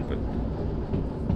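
A train rolling along in the railway simulation game Derail Valley, a brief low steady rumble with a faint voice over it.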